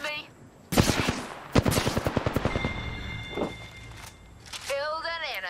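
Rapid bursts of automatic gunfire crackle through a video game squad firefight, loud close rattling volleys followed by softer shots, while a voice talks over the action.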